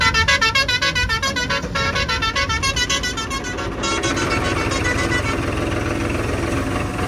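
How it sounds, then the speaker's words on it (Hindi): A loud vehicle horn blares in rapid repeated toots over a rumbling idling engine, close by and continuous, during a wheat harvest with a combine. "मुझे लग रहा है बस हॉर्न बजने वाला है"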